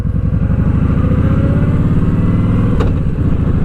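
A metric cruiser motorcycle engine idles steadily close by, a loud, even low-pitched rumble with a brief blip of throttle near the end.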